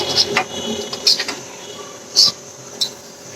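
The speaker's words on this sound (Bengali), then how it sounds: "খুব নাড়তে হবে, নাহলে নিচে লেগে যাবে।" A utensil stirs zarda semai in a pot on the stove, giving a few light, scattered metallic clinks and scrapes over a steady background hum.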